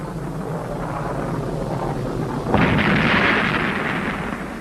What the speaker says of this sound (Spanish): Este es el momento en que se produce la explosión.